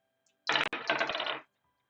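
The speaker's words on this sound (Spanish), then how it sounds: "¿qué tal si ahora lanzo dos dados? Tengo dos dados y los lanzo." Two dice are tossed onto a hard surface, giving a quick clatter of tumbling clicks that lasts about a second, close and fairly quiet, with no voices.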